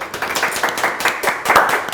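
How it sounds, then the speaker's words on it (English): A small audience applauds in a quick, uneven patter of fairly close hand claps that continues steadily for the whole stretch without any talk. "a round of applause for Ada."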